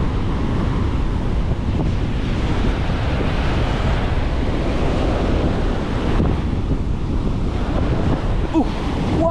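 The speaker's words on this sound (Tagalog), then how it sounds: "Grabe, ang lakas ng alon." Strong ocean waves crash and surge on a windy coast, a continuous loud roar with heavy low rumble and wind buffeting the microphone throughout, with no talk.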